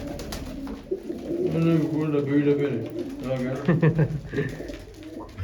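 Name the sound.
pigeons cooing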